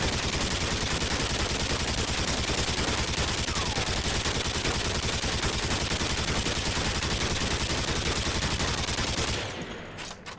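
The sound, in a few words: RPD light machine gun firing in Call of Duty video game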